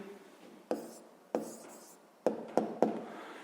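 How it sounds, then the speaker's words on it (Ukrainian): Pen strokes on paper while writing down the answer to a sixth-grade math percentage problem, five short distinct taps and scratches spaced irregularly, close and alone. "записуємо відповідь"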